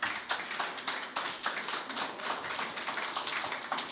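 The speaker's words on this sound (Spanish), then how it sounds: "Dale fuerte palmas al Señor." A church congregation claps hands for the Lord in a dense, steady rhythm of many overlapping claps, loud and continuous throughout with no voices on top.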